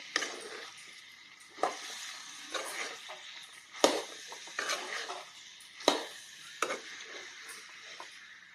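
Ingredients stirred in a pan over a low flame, a soft continuous sizzle broken by several scraping strokes of a spoon against the pan at uneven intervals, close and fairly quiet, no talking.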